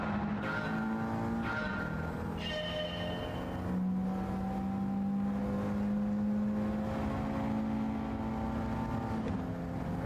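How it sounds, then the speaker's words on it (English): A racing-game car engine held at high revs, a steady droning whine that climbs slowly in pitch, loud and continuous with no talking over it. "I gotta rev this sucker out"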